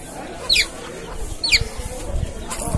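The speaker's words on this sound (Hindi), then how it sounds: "यहाँ पर हमारा वो मुर्गी आ गई है, अपना चूजा को वहाँ छोड़ दिया है वो" A hen clucks nearby, two short sharp calls about a second apart over faint background noise.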